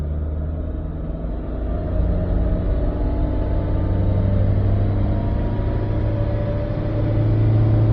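A Honda Jazz runs on a dyno with its clutch being eased in. A loud, steady engine drone rises slowly in pitch and fills the whole stretch, with no talk over it.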